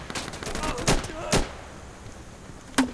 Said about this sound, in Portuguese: tô no meio dos tiros.